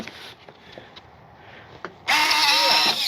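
Landing gear on a Freewing 70mm Vulcan RC jet retracts or extends. Faint clicks come first, then a sudden loud electric whirring servo whine that lasts about a second before stopping.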